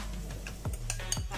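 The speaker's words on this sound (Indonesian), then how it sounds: "kita aduk merata" Spoon stirring a dough of egg, cheese, salt and butter in a bowl, with soft repeated scrapes and clinks, close and moderately loud, and no talking.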